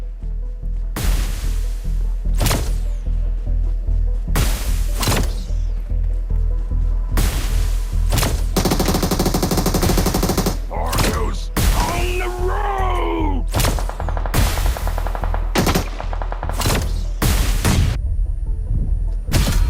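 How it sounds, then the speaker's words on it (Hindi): A Honey Badger gun fires in BGMI in a series of loud, sharp bursts separated by short pauses, mixed with other in-game effects. "अब यहाँ देखो मेरे हाथ में जो गन है हनी बैजर, अब मैं इसका यूज करने वाला हूँ"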